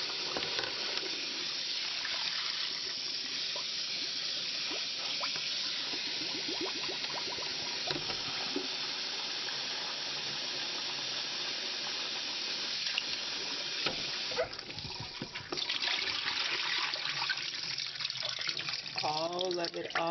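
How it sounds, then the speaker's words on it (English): Cold tap water runs steadily over raw chicken pieces in a bowl while making pasta, a continuous close splashing with brief shifts as the meat is moved under the stream, with some speech faintly underneath. "Rinse it with cold water now."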